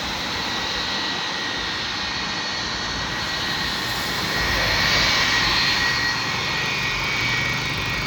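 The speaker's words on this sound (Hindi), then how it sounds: "इसके इंजन रोर में मज़ा आना चाहिए" A loud, steady jet engine roar from an airliner taking off at Delhi Airport fills the air, swelling slightly midway with a broad rushing hiss and a high whine.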